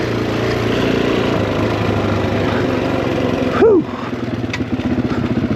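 A Suzuki DRZ400E dirt bike engine drones steadily on a trail, loud and close with a buzzing single-cylinder tone that eases off near the end as a voice exhales.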